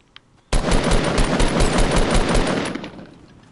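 Video game gunfire erupts abruptly into a loud, sustained automatic burst of rapid shots that rattles close by for a few seconds, then tapers off.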